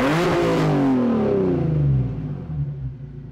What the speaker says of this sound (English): now we can rev her up a little bit and you guys can hear what this thing sounds like